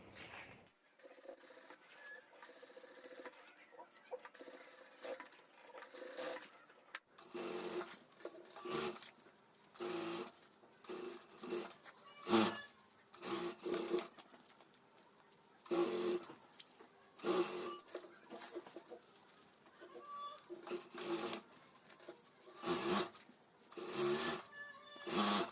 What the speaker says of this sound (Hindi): तो यहाँ से मैं सिलाई शुरू कर देता हूँ